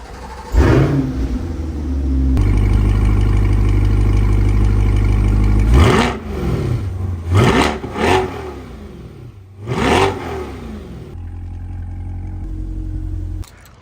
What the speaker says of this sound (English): I can guarantee you one thing that's not a problem is hearing this car on a cold start